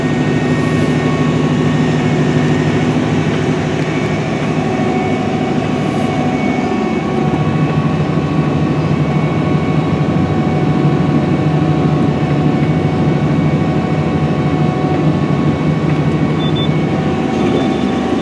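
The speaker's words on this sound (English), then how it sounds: "Now the tractor is going to actually steer itself back onto another 40-foot pass here." A Challenger tractor engine drones loud and constant at close range while planting corn at 10 mph with a White 9800VE planter, a steady low rumble with tonal whine and no variation or talk.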